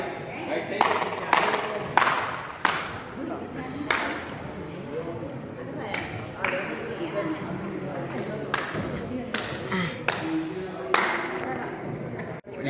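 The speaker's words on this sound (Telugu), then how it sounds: "ఇక్కడ క్లాప్స్ కొడుతుంటే రీసౌండ్ వస్తుంది బాగా." Hand claps ring out and echo inside the stone halls of Golconda fort, a series of sharp, irregular strikes with a lingering resonant reverb, while people talk throughout.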